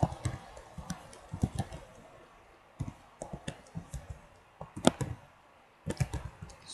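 Computer mouse clicks during an Ubuntu install in a VirtualBox virtual machine: sharp, quiet clicks in small irregular clusters with pauses between, close against a faint background hiss.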